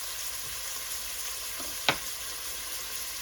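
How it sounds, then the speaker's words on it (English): Onions fry gently in a pot for a lentil soup, giving a soft steady sizzle with one brief clack of a utensil near the middle and no voices. "I want my onions to caramelize"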